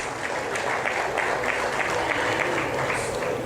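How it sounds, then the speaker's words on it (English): Applause from the audience at a book launch on Nigeria and Boko Haram, a steady dense wash of clapping that holds at an even level for the whole stretch, with no voices over it. "Let's give another round of applause to His Eminence"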